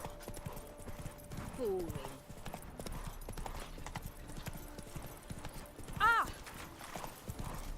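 Horse hooves clip-clopping steadily in the video game Witcher 3, with a brief neigh partway through and someone talking quietly over the rhythmic steps.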